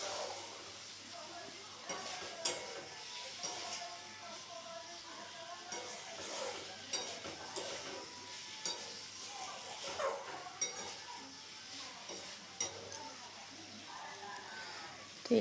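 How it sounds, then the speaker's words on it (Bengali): Green banana curry being stirred in a pan, a steady low sizzle with frequent scraping and clinking of the spoon against the metal, close, with a voice talking over it at times. "সামান্য পরিমাণে একটু জল দিয়ে এটিকে ভালোভাবে নাড়তে হবে"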